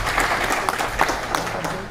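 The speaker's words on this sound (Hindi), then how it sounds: "गुड, तालियां भाई इनके लिए।" An audience at a seminar breaks into applause, a dense, close burst of many hands clapping that continues steadily throughout.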